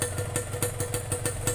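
A 2001 Yamaha RX King motorcycle with an oversize engine and a cut-down exhaust stripped of its baffles, running at a steady idle with an even, rapid putter and metallic clatter, close and continuous.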